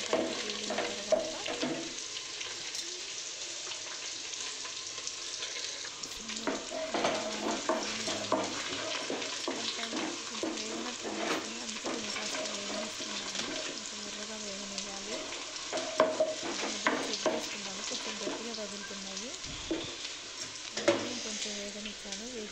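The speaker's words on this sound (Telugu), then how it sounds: "సిమ్లో పెట్టి మంచిగా చిన్నగా నిదానంగా వేయించుకోవాలి" A pan of oil on a low flame sizzles steadily while something is stirred through it. Scraping and stirring strokes recur over the constant close frying hiss for over twenty seconds.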